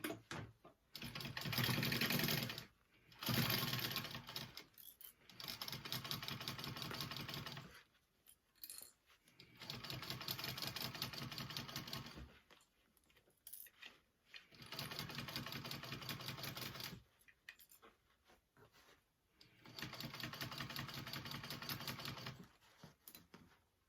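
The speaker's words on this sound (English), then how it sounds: "I sew it from the inside of my pocket" Sewing machine stitches a curved backpack pocket in repeated bursts of rapid mechanical clatter lasting a few seconds each, separated by short quiet pauses, close and fairly faint.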